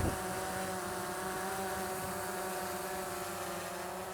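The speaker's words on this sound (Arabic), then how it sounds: "علشان نخلي الطيارة تهبط هبوط ناعم راح انزلها" A DJI Phantom 3 quadcopter drone descends, its propellers giving a continuous, even buzzing whine with layered tonal harmonics that stays steady and close for the whole stretch.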